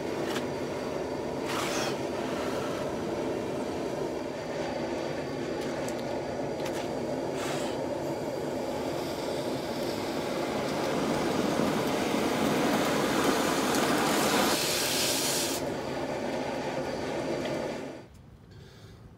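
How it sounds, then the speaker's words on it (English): A heated tang of a kris dagger, forged from an old file, is pushed into a hard bloodwood handle, giving a steady close sizzling hiss with crackle that swells and brightens midway, then cuts off abruptly near the end, with no talking. "I've never actually burned into bloodwood before"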